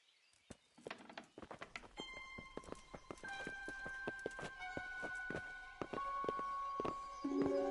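Horse hooves clip-clopping in the medieval video game Kingdom Come: Deliverance, a run of sharp irregular hoof knocks starting sparse and close, then continuing under swelling music and ambient game sound.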